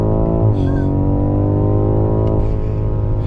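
A car launches from a standstill at full throttle using launch control, with a loud, close engine roar. Its pitch climbs and dips at two gear changes, and a voice may be faintly under it.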